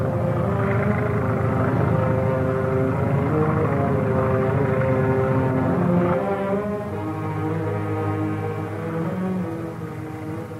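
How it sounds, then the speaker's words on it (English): A steady, droning engine hum with layered harmonic tones fills the air, loud and continuous, easing slightly toward the end like a propeller plane passing overhead. "Hear that plane?"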